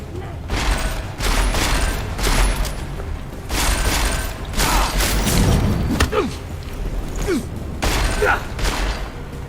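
Gunfire in Deus Ex: Mankind Divided, bursts of shots and heavy thuds in clustered volleys with mechanical clanks between, loud and close, with game voices mixed in.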